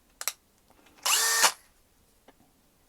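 A cheap brushless 18V drill driver with a two-speed gearbox, styled as a Makita clone, spins up briefly in one short whirring burst, with a couple of faint clicks and handling taps around it in a quiet room.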